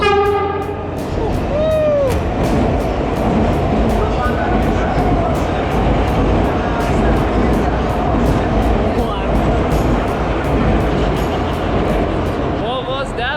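Crowded cheap local train pulling into a hot station, a steady loud rumble of wheels and machinery running throughout, with a short squeal near the start and people talking over the din.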